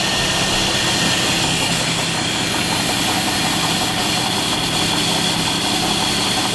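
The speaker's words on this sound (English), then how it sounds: "There's the drum turning." A 5 ton cable hoist drum turning, giving a steady, loud mechanical hum and rumble with constant vibration and no breaks.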